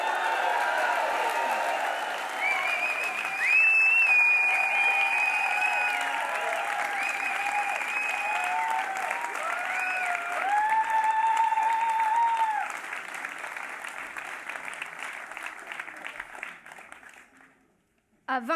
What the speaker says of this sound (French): Un maximum d'applaudissements pour la présidente de ta mère la mieux.